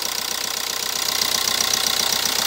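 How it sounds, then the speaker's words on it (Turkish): A Hyundai Accent Blue engine runs at a fast, steady idle, loud and close, with a rapid rhythmic knocking pulse and a high hiss above it. Nobody speaks. "Marşı vuralım baba. Yo çalıştı."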